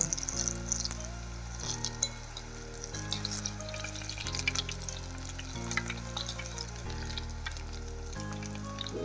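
Gogadi bhajiya fry in hot oil until crisp and golden, with a dense, continuous sizzle and bubbling close by, broken now and then by stirring.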